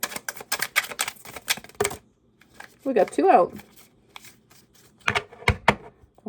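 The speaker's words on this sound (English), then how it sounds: "Nobody judge me for my shuffling." Tarot cards are shuffled by hand in a quick, dense run of papery clicks and flicks lasting about two seconds, followed by a person speaking and a few more card snaps near the end.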